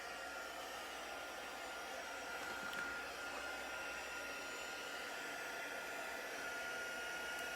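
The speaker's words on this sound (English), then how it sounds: "pull out my heat tool and set it on number 2. And I'm going to heat this up." A handheld heat tool on its low setting, heating copper embossing powder on a card, gives off a steady, even whooshing whir that holds unchanged throughout.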